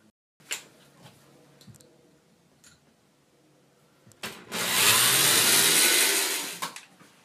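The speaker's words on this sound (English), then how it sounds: "just so that drill bit gets a chance to get started on there and doesn't skip around" A drill bit bores a hole into a carved wooden hand, starting with a few light taps and scrapes, then a loud, steady whirring bite lasting about two seconds before it stops.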